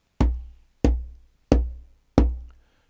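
Four deep, thudding conga bass strokes, evenly spaced with short gaps, each a low boom that fades quickly.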